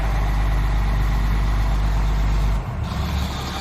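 A 1994 Chevy Kodiak diesel wrecker truck engine idles with a deep, steady rumble, its note dropping slightly partway through as the electronic fast idle settles lower.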